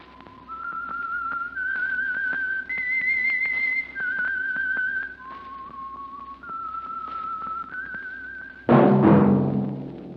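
A clear, melodic tune is whistled in sustained notes that step up and down in pitch, the theme of the radio drama The Whistler, ending as a louder burst of music swells in.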